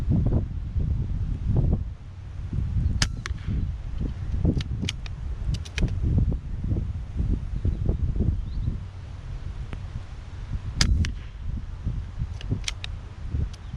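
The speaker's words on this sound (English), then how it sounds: "Wind's really picking up." Strong wind blows steadily outdoors at an air rifle shooting spot, a loud, continuous rumbling gust noise buffeting the microphone, with faint high chirps or clicks scattered through it and no speech.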